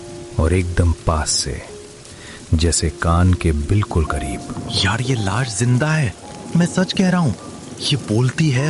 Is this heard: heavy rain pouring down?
yes